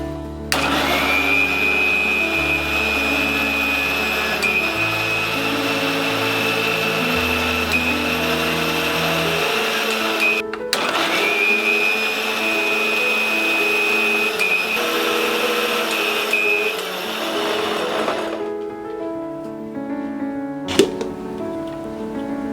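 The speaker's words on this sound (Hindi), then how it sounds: "इसमें डालेंगे अराउंड 1 कप वाटर, बंद कर देते हैं और इसे ब्लेंड करेंगे।" A blender whirs loudly and steadily as it purees a green smoothie made with about a cup of water, with a short pause midway before the motor resumes and then cuts off near the end.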